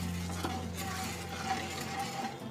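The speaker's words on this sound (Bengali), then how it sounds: "এবার আমি ওই তেলেই একটুখানি চিনি দেবো। চিনিটা একটু ক্যারামেলাইজ হলে গ্রেভির কালারটা কিন্তু খুব সুন্দর হয়।" Sugar caramelizing in hot oil as the base for spicy kasha chicken gravy, a soft, low, steady sizzle with faint stirring, quiet and close, no voices.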